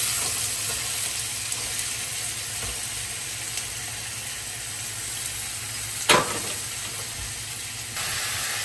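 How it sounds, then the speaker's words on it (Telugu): Onions fry in hot oil for a curry, producing a steady, close hissing sizzle with a soft stir or clatter now and then and one brief louder knock. "ఇప్పుడైతే ఇవి ఆనియన్స్ అవి వేసేసుకొని ఫ్రై చేసుకుందాం."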